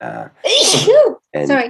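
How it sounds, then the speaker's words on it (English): A single loud, close sneeze from a man, with a brief spoken word just before it and another right after. "I don't even know why I'm sneezing"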